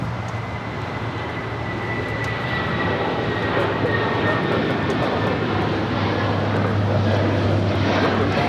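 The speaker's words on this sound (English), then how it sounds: "That is United Airlines 1069 taking off to Chicago on the 757-300." A United Airlines Boeing 757-300 takes off from Los Angeles airport, a loud steady jet engine roar with a low drone that builds slightly and holds throughout.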